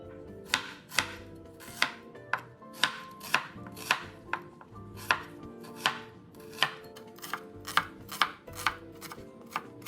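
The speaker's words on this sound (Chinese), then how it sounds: "洋葱一样切碎。" A knife chops onion on a cutting board in steady, sharp strokes, about two per second, close and distinct with no talking.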